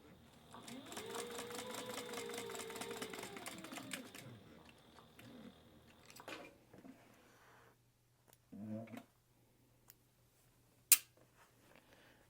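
A sewing machine runs a short seam on a tea towel topper with a half-inch seam allowance, a steady close whir for about four seconds, then stops, leaving faint handling clicks and a brief soft bump.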